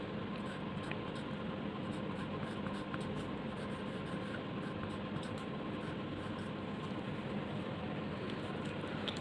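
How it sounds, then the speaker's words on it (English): A red marker pen writes column headings on paper for a school science project chart, with a steady soft scratchy rasp running continuously under a faint background hiss and no talking. "And A I am writing with this red color marker"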